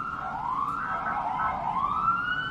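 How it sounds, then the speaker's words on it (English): A siren wails with slow rising and falling sweeps, steady and fairly loud, over a low rumbling background. "Look at the sirens."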